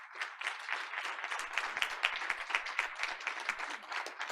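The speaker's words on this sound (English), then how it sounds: "a big round of applause" A school board meeting audience claps for an honored student, a steady, moderately distant round of applause lasting a few seconds with no voices over it.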